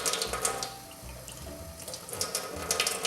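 Parsley being rinsed under a running kitchen tap, with soft water splashing and clattering against the sink at a fairly quiet, close level and no one talking.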